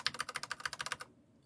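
Brisk typing on yellow linear switches from a silent-linear comparison, a tight string of crisp, close keystrokes that runs for about a second then cuts off to near silence.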